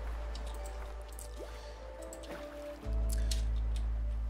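Water drips from a desalinator in the survival game Flotsam, a soft wet drip over a steady low game hum that grows louder partway through.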